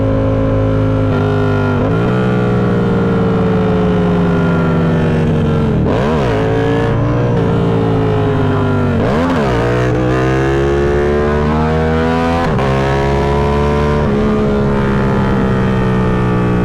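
A motorcycle engine droning loudly and continuously while riding on back roads, its pitch rising and falling through several revs and gear shifts, close and constant with no talking.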